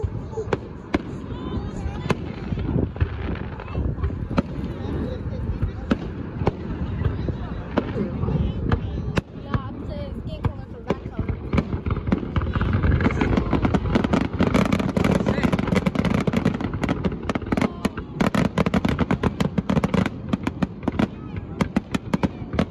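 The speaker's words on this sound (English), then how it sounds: "we're gonna show you guys the fireworks show on" Outdoor fireworks show seen from a crowded parking lot: a long run of sharp bangs and crackling bursts, some rapid, over a constant wash of crowd noise and voices.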